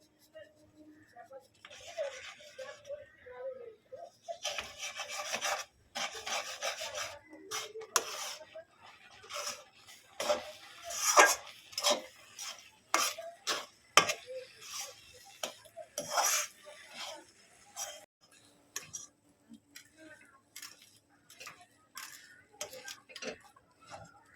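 Flour is stirred slowly into boiled milk and melted sugar in a pot, making close, repeated scraping and ticking strokes in an uneven rhythm, with quiet pauses between bursts.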